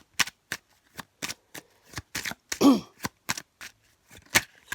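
Playing cards shuffled during a card reading, a run of short riffling bursts repeating at a steady pace with one longer, fuller riffle in the middle, close and fairly quiet with no talking.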